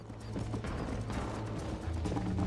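Rapid clip-clop of a horse galloping in the Red Dead Redemption video game, a steady, continuous hoofbeat rhythm running throughout at moderate, even loudness.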